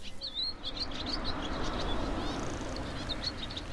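Songbirds chirping and tweeting in countryside hedgerows, several quick high calls repeating over a soft, steady outdoor background hiss, with no voices present.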